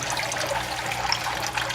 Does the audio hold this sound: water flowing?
yes